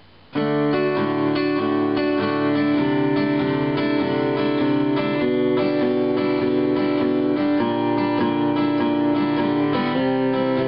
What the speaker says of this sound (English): So if I strum through those chords, it'll sound like this.